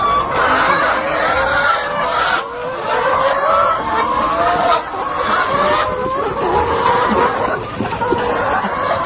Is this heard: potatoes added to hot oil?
no